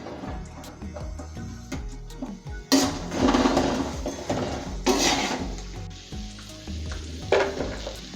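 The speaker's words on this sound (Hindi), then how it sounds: "अब ये जो ड्राई फ्रूट्स हैं ये हमारे भुन चुके हैं।" Dry fruits roasting in a pan for gond laddoos, sizzling under repeated scraping and clinks of a spatula against the metal, with a few louder stirring bursts.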